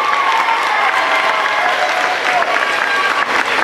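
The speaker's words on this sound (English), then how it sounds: "give these guys the round of applause" Audience at an elementary school production of Peter Pan Jr. applauds loudly and steadily, a dense wash of clapping with some crowd noise mixed in.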